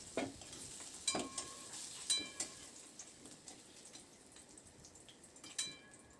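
Potato pieces stirred and fried in a wok until lightly reddened make a soft, low sizzle, with a few brief scraping stirs and light clinks, fairly faint throughout.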